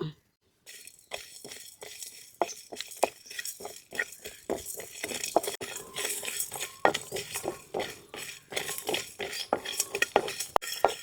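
Coriander seeds, cumin, shahi jeera, cinnamon, cloves and star anise dry roasting in a pan, with rapid repeated rattling and scraping of a spatula tossing the hard spices, close and continuous.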